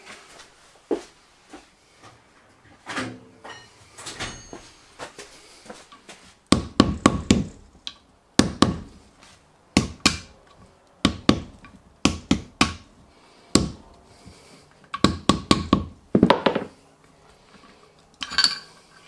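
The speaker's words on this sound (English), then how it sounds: "Let's get a placky mallet." A plastic mallet knocks on a Ducati SuperSport 750 engine part during a teardown. It lands in irregular bursts of sharp taps, close and fairly loud, with brief pauses between the groups.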